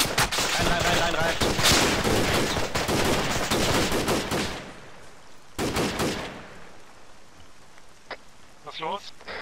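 Gunfire from a church in the video game ArmA 3: dense rapid bursts of shots fill the first half, followed by a short second burst and scattered fainter shots, with players talking.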